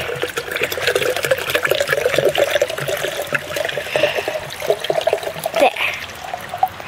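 Tap water runs steadily into a pitcher being filled with a liter, a continuous trickling pour with a rising pitch as the vessel fills, close and fairly loud, with a brief clunk near the end.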